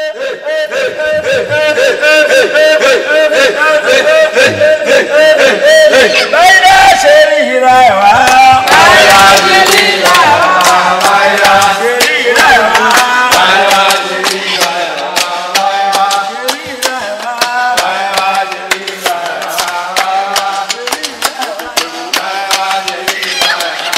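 Music recorded at an African ritual ceremony, carried by dense, steady layers of tone with a sharp buildup near the middle, loud and continuous throughout with no voices standing apart.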